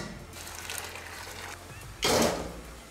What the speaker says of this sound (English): Drain the water and repeat the same process.